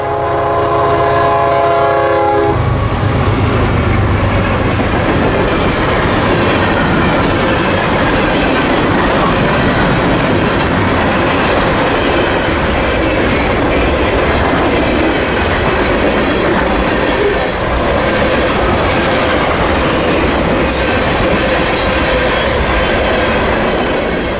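A loud train horn blares at the start, then heavy southbound freight train M453 roars past continuously at Lochloosa with rumbling wheels and clattering cars, very close.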